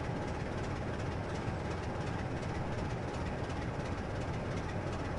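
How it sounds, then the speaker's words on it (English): A simulated train runs on the East Coast Main Line, a steady, unbroken rumble of wheels and engine at moderate level, with no voices. "just as soon as I know that I'm clear of the points, I'll stop the train and turn around quickly"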